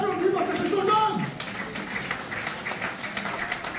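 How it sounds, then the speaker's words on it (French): A church congregation applauds during a sermon, scattered clapping that rises and then continues more loosely while a voice speaks over it. "tu peux l'applaudir parce que c'est son homme."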